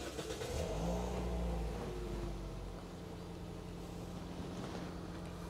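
A 2010 Toyota Vios TRD Sportivo automatic car engine cranks and catches, revving briefly before settling into a steady low idle, close by.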